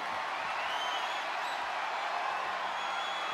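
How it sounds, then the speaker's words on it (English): In-arena crowd applause and cheering from WWE 2K24 during an ambulance match between CM Punk and Drew McIntyre, a steady dense wash of clapping with no breaks. "The WWE Universe is showing their appreciation for the action they're seeing."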